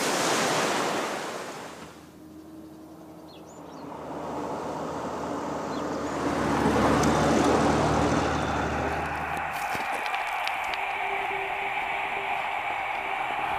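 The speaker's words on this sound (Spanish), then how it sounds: "La acción del oleaje y las corrientes marinas arrancan el material rocoso" Sea waves break and wash against a rocky shore, a loud continuous roar of surf that swells and recedes, with wind noise buffeting the microphone.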